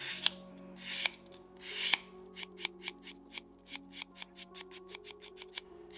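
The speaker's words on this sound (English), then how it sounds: "you want to run that sandpaper down that edge" Sandpaper rubbed in one direction along a leather edge during burnishing, a few longer rasps followed by a quick run of short, regular scratchy strokes, close and fairly quiet, no talking.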